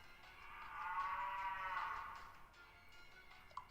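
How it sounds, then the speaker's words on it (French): A cow moos once in the Miitopia video game on Switch, a long, low, swelling call that rises and fades over a couple of seconds, clear against a quiet background. "Il a attiré une vache."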